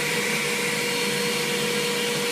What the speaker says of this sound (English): I'm just gonna grab him with the vacuum cleaner.